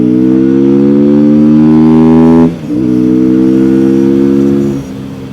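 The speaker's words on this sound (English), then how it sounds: "So right now we're going 25, 27 kilometers per hour. And I'll just open the throttle." A Bends Chinchilla 450 street motorcycle accelerating hard under open throttle, its loud engine note climbing in pitch, briefly dipping at a gear shift, then climbing again before easing off, close and with no talk.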